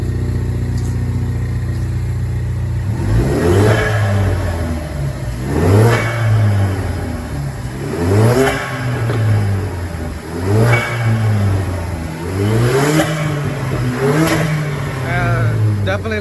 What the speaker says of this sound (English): Rev it a couple times.